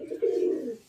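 A male pigeon coos close by at a black-green female on a rooftop, giving one low, throaty rolling coo that swells and then fades out.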